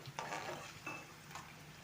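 A spoon scrapes and stirs through a tempering of ginger, garlic, onion and chillies frying in a pan, with a soft sizzle underneath and a few distinct stirring strokes.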